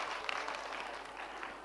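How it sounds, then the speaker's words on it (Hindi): Faint audience applause at a quiz event in a hall, a soft continuous patter of clapping heard at a distance. "तालियां बजाइए।"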